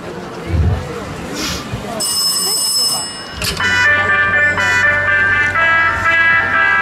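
A telephone ringing as part of a story at an outdoor Christmas market opening concert. Bright repeated ring bursts sound over a steady hum and crowd ambience.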